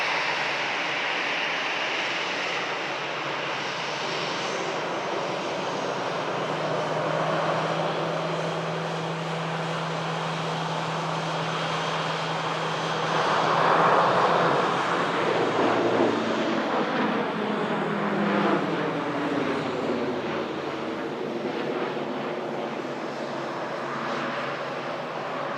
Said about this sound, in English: Here's the Dash 8 on the move. Departing Manchester. Runway 23 right,